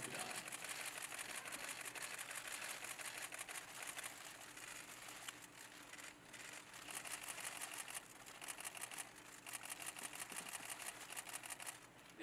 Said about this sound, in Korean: 이제 어느 정도 카메라 셔터 소리가 줄어든 것 같습니다